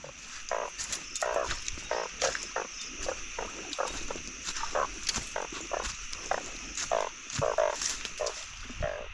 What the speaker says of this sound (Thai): มีตัวกบตัวใหญ่